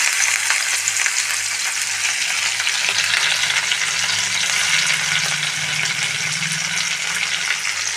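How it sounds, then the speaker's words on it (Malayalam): Dried prawns fry in a spoonful of coconut oil in a pan on a stove, giving a steady, close hissing sizzle with faint stirring that runs unbroken and fairly loud throughout, with no voices. "അതിൽ ഒരു സ്പൂൺ വെളിച്ചെണ്ണ വീത്തിൻ്റെ അതിൽ ഞാൻ ഈ ചെമ്മീൻ അതിലിടണം"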